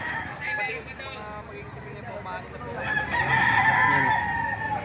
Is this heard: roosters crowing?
yes